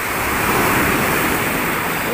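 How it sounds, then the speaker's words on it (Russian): Sea waves at Batumi, a loud continuous rush of surf with wind across the microphone, steady and close throughout. "О, боже, какие волны сегодня."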